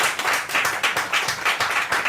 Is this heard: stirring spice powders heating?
no